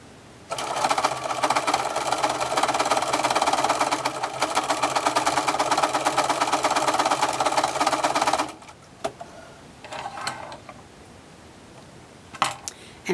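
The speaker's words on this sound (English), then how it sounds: "Just sew this one round. And you're going to turn it and do the same thing at the top." A sewing machine runs in one steady, loud burst for about eight seconds, stitching around an embroidered arm warmer, then stops and leaves quiet handling noises.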